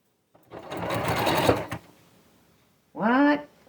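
A sewing machine runs in one steady burst of about a second and a half, stitching through fabric held in place with pins, then stops. A short spoken phrase follows.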